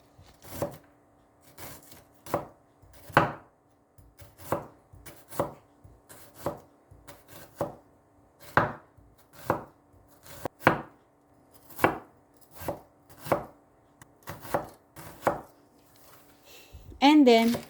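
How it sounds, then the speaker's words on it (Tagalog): A knife finely slicing a piece of onion on a board for a layered salad, with steady, crisp chops repeating about once a second, close and clear, with no talk over them. "Then we get one piece of onion and finely slice and set aside."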